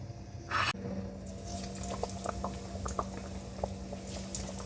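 Homemade chicken nuggets frying in hot oil, a soft continuous bubbling sizzle with small pops, close and moderately quiet, after a brief louder splash at the start.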